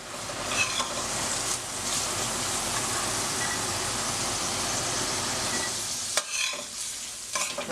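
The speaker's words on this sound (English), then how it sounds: "This is just like browning off ground beef or anything else." Raw sausage browns in a skillet for breakfast burritos, giving a continuous close sizzle and hiss with scraping as it is broken up, ending in a few clattering knocks.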